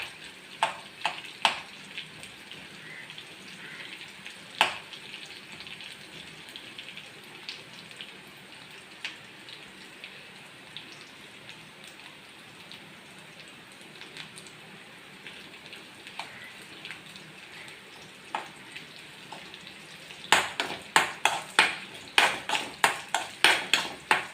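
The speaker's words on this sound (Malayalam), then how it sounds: "നമുക്ക് ഈ മുളകിനെ ഇങ്ങോട്ട് ഇട്ടു കൊടുത്തൊന്ന് മൂപ്പിച്ചെടുക്കാം" Dried chilies frying in a pan of hot oil, a steady crackling sizzle throughout with scattered sharp pops that burst into a dense run of loud spits toward the end.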